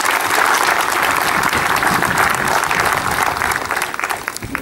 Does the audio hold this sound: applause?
yes